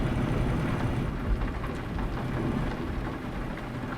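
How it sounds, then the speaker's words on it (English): Heavy rain with rolling thunder in the trucking game Euro Truck Simulator 2, a dense continuous downpour with low rumbles, loud and steady throughout with no talking. "Have I got the rain set to always be here?"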